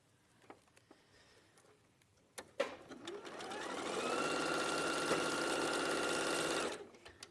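A sewing machine stitches quilt block pieces together, starting with a few clicks and then running in a steady, close mechanical whir for several seconds before stopping, with no talk over it.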